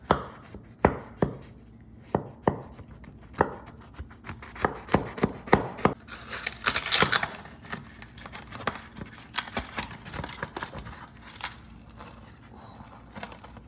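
A knife cutting into a crispy cheese-crusted breakfast dish, with a series of loud close crunches and crackles at an irregular pace and denser crackling in the middle.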